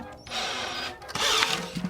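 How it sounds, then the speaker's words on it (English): A power drill driving the tension lugs on a drum, two bursts of whirring separated by a short pause, close and loud, with no talk. "we're gonna go straight to the power drill and just tighten it down with this"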